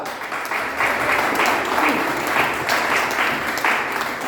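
Church congregation applauding during a sermon on Jesus as Lord and Saviour, a steady, dense wash of many hands clapping that holds at full strength for the whole stretch.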